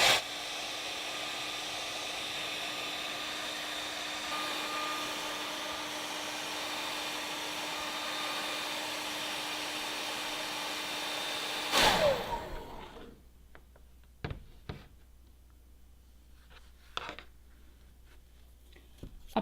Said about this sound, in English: using either a blow dryer or a heat gun, heat each edge until the edges are warm